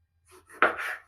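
A kitchen knife chops a tomato on a cutting board while cooking chicken kasha, giving a faint tap followed by one crisp, louder cut with a short wet slice after it.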